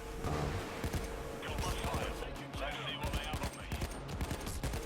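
Rapid gunfire from a Payday 2 firefight, dense overlapping shots crackling continuously at moderate distance with bursts of automatic fire throughout.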